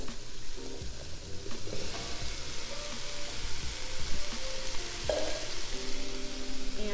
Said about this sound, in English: we're just going to be sauteing that for a few minutes